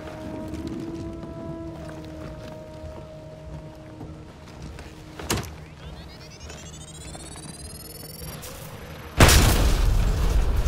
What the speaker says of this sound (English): Bull Krogan, don't look at explosions.